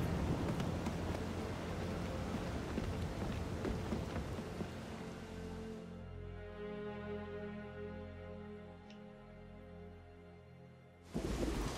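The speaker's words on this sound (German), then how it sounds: "Wir müssen in den Sturm!" A rain-soaked thunderstorm at sea in Assassin's Creed Freedom Cry: dense hissing downpour and rumbling thunder fill the first half, then a deep, steady low rumble with tonal drone lingers before the heavy rain crashes back in at the end.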